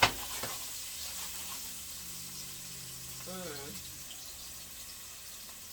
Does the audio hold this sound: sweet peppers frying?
yes